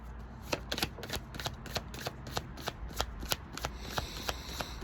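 Tarot cards being shuffled by hand, a quick series of soft papery riffles and taps at a fairly even rhythm, close but quiet, with no talking.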